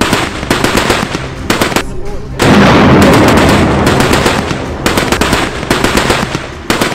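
Dense, loud gunfire between army troops and terrorists in jungle terrain: rapid bursts of automatic shots crackling in quick succession, with a sustained heavy roar in the middle, continuous and close throughout.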